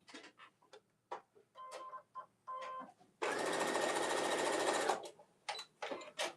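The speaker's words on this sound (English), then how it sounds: "I'm going to just go over to the sewing machine and just place a seam right here" A sewing machine stitches a seam in a crafting demo, a loud continuous burst of rapid stitching in the middle, framed by short clicks and handling taps before and after.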